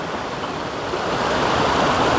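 A river on the Appalachian Trail rushes past in a steady, close, broadband wash of flowing water that swells slightly louder toward the end, with no talking.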